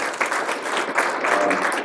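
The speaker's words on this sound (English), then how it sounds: "Round of applause to the Cater to You people." Audience at a Thanksgiving inspirational breakfast claps together in a short burst of steady, fairly loud applause, with no voices standing out.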